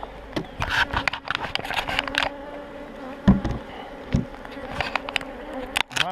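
Honey bees buzz densely around an opened green hive during a spring inspection, a steady close-up drone with scattered louder passes as individual bees fly near, and occasional light scraping of hive parts.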